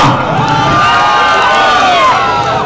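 A large crowd at a public felicitation event in Tanuku cheers and whoops loudly and continuously, a dense roar of many voices that fills the space up close.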